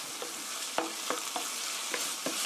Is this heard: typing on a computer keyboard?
no